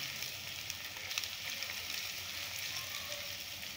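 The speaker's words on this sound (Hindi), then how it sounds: "अब मैं थोड़ा सा ना लहसुन डाल दिया इसमें, ज़्यादा नहीं डालना, ये डाल के ना मैं भूनती हूँ" Garlic frying in a pan for a chicken gizzard curry, a steady soft sizzle with fine crackling pops, close and fairly quiet, with no talking.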